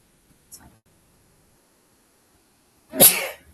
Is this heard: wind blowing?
no